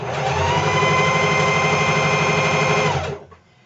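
A sewing machine runs steadily at high speed for about three seconds, stitching fabric with a dense mechanical whir, then stops abruptly.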